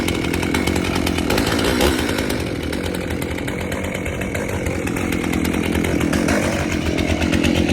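A two-stroke Farm Boss chainsaw roars loud and close, its engine buzzing steadily throughout with a harsh, raspy rattle and no pauses.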